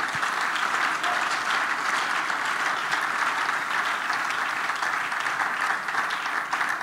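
A congregation at a French-language church service applauds steadily in honour of the Holy Spirit, a dense, even wash of clapping that holds at full strength for the whole stretch, with no voices standing out.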